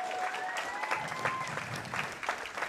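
Audience applause at a live speedrunning charity event, a steady wash of many hands clapping that sounds fairly distant and soft, with a faint tonal whistle drifting through early on.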